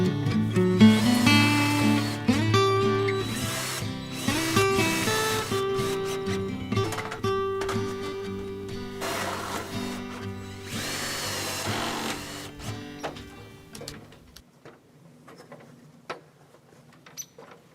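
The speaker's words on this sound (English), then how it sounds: "I'm going to screw all these sections of pipe together" A power drill drives screws to join chimney pipe sections for an off-grid cabin, loud close whirring bursts with rising and falling pitch, repeated several times before fading to a quiet tail with light clicks.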